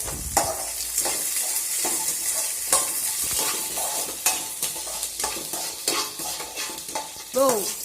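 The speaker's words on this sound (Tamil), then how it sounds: "இந்த சின்ன வெங்காயமும் நல்லா வதங்கணும்" Small onions (shallots) sauté in hot oil in a pan while a spoon stirs them, giving a steady close sizzle broken by repeated scraping strokes, with one brief metallic clink near the end.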